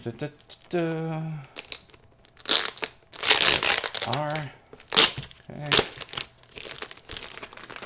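Crinkling and tearing of plastic and tape as a taped package is unwrapped during an unboxing, in close irregular bursts, with a voice speaking intermittently between them.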